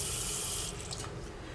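Cold, well-salted water pouring over Maris Piper potatoes, a steady rushing stream that thins and breaks into uneven splashes after a moment, close and alone.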